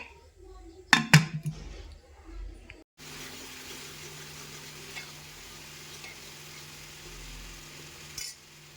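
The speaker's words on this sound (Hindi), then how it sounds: "तो जी बस यहाँ पर बना रही हूँ मैं अपने छोले की सब्जी" Chickpea curry with potato cooks in a pan, with a few sharp metallic stirring clanks and scrapes early on, followed by a faint steady sizzle; someone talks during the clip.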